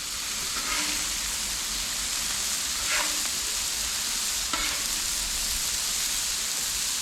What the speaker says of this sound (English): We're going to go ahead and flip all the others.